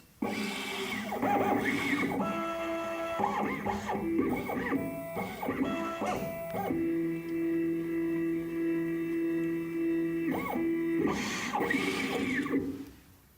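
A Condor XC Mini key machine runs its clamp calibration tracking, giving repeated motorised whirring and buzzing passes with steady tonal hums and short pauses between movements, close and moderately loud.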